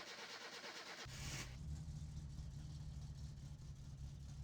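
Virtual car in My Summer Car cranks briefly then catches, settling into a steady, close, low idle that continues to the end.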